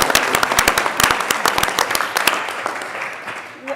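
Meeting audience applauding at a special business meeting, a dense burst of many hands clapping that starts loud and gradually thins and fades over a few seconds, with faint murmuring underneath.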